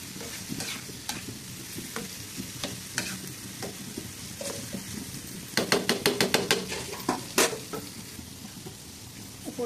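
Soft loitta fish fry in a pan with a close, steady sizzle, broken by a quick run of spatula scrapes and clinks against the pan partway through, with no talking.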